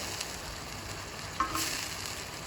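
Rohu fish curry bubbles and sizzles steadily over a raised gas flame, a constant close frying hiss with a brief clink partway through.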